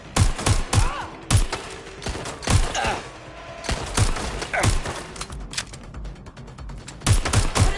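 In the video game Watch Dogs Legion, rapid gunfire cracks in uneven bursts of sharp, loud shots, some clustered and some spaced apart, with faint shouting and radio chatter mixed in between.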